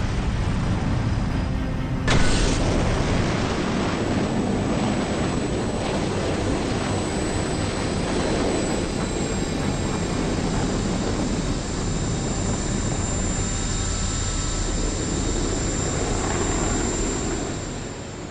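A space shuttle lifts off in the game Farpoint. A sudden onset swells into a loud, sustained rocket roar that rumbles on for many seconds and eases slightly toward the end.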